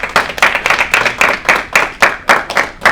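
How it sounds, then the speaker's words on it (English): Audience applause at a financial literacy workshop, a steady patter of many hands clapping with rhythmic peaks, fairly close and loud, without talk over it. "So ladies and gentlemen, give a round of applause to Jose Gonzalez."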